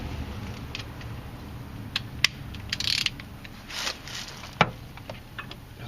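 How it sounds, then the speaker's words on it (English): A torque wrench ratchets and clicks while tightening the rear brake on a 2004 Hyundai Santa Fe during a rotor and pad change. The clicks are faint and irregular, spread over a steady workshop hum. "I'll throw the torque wrench on it just for the heck of it."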